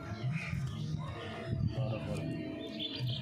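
Pigeons in a domestic loft coo softly and repeatedly up close, low warbling calls with a few faint chirps and some quiet rustling.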